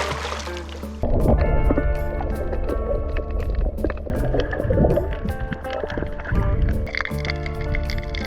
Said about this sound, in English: I unloaded our kayak, pumped it up, and set out on a little adventure around the nearby island